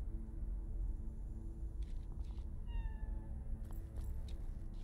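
A cat in Cyberpunk 2077 meows once, a clear short call rising above a steady low ambient hum, with faint clicks around it.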